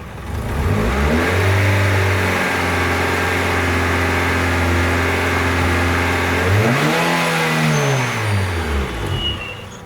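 A turbocharged D16 engine in an EJ8 Honda Civic, revved and held at a steady high pitch, dropping briefly and climbing again, loud and close with no talk.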